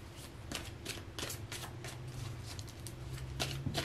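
A tarot deck is shuffled by hand at close range in a series of rapid riffling bursts, a papery flutter of cards repeating steadily with a faint hum behind it.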